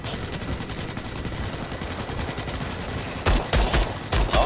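Gunfire in Starship Troopers Extermination: a steady rumble of distant battle, then at the end a few loud close bursts of shots in quick succession.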